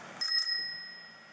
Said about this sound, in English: The bell so that I don't get smoked